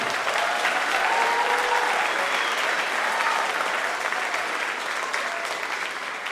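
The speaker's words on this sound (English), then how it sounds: "can we have one more round of applause for the sixth grade band?" A school concert audience gives the sixth grade band a round of applause, with steady, sustained clapping from a large crowd that holds at an even level throughout.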